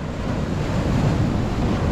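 Sea waves surge against the rocks at Boa Viagem beach in Recife, a heavy, continuous wash and rumble with strong wind buffeting the microphone and no voices.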